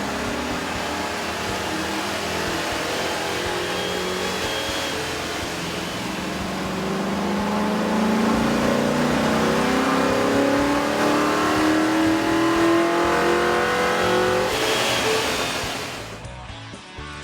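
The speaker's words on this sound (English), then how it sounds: "we ran the vehicle on the dyno to test the sound comparison versus the stock intake." A Chevrolet Silverado 2500 HD pickup with a 6.0L engine and an aftermarket air intake kit runs on a dyno, its loud steady roar climbing through a long rev before easing off near the end.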